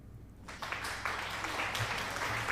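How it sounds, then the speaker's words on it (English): Brief scattered clapping from a small group begins after a short quiet moment and carries on evenly, faint and somewhat distant. "thanks for the applause"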